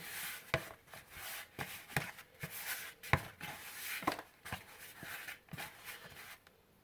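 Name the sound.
hands gently kneading dumpling dough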